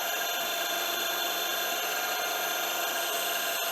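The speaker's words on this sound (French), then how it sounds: "Il a du mal à percer." A drill bit boring into very hard brass-like metal on a milling machine, a steady high-pitched whine with dense bright overtones that holds evenly throughout, close and loud with no talk.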